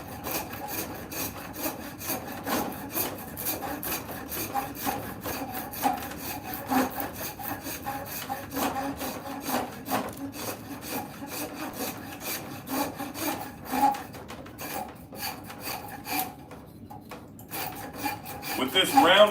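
A Nicholson half-round rasp filing wood in a workshop, a continuous run of rough rhythmic scraping strokes, close and fairly loud.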